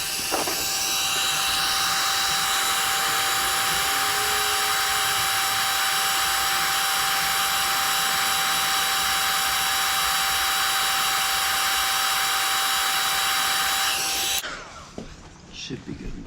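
Heat tool warming 3M adhesive tape on a chin mount for a Sedici Strada 2 motorcycle helmet. Loud, steady blowing roar with a faint whine, close by, holding constant before cutting off near the end.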